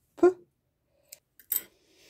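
Scissors snip thread after machine stitching on washable cloth wipes, giving a few short, crisp cuts: one clear snip, then a faint click and another sharp snip, close up in a quiet room.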